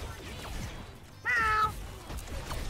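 A pet cat meows clearly once, loud and close, over steady background noise with no one talking.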